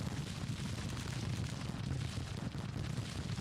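Artillery fire in Grand Tactician: The Civil War, a dense, continuous rumble of distant cannon booms merging into a steady low roar, with no distinct single blasts and no talk.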